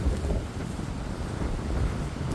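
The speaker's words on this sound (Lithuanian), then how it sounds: "Vėjas nemažus." Strong wind blows beside a rural pond, a continuous low roar and buffeting rumble against the microphone with no speech.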